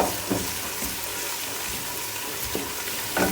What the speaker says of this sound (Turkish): Şöyle soğanlarımızı kavuralım.